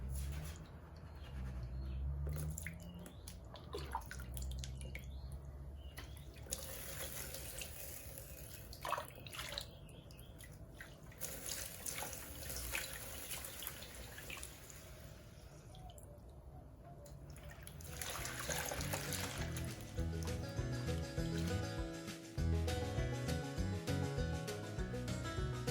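Gold concentrates and water are poured into a small pan, heard as irregular trickling and dripping that swells into a fuller, steadier splashing flow toward the end, with no talk.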